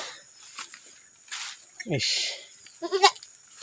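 A goat tangled in undergrowth bleats twice, short wavering cries close by, amid rustling of brush and faint footsteps.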